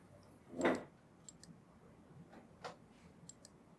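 Computer mouse clicks at a desk, a few quiet separate clicks spread over several seconds in a hushed room, one of them slightly louder than the rest.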